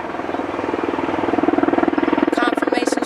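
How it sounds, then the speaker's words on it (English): A helicopter passes overhead with a steady, loud rhythmic rotor chop that swells toward the middle and stays close throughout, with no voices over it. "Confirmations from the helicopter, yes indeed."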